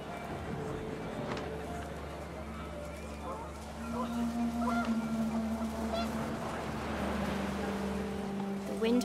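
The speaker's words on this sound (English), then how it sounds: "The wind picked up, and panicked geese appeared and quickly went." Geese honking in the video game What Remains of Edith Finch, several calls rising over a steady low background hum and gusting wind, moderately loud and fairly close.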